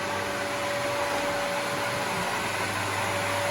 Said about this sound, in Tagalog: So narinig nyo, mandar yung motor.